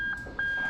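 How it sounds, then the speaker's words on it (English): Two short, high electronic beeps from a Toyota UZ-FE VVT-i engine's ACIS warning, about a quarter second apart, thin and steady-pitched over a low background hum. "ACIS beeping"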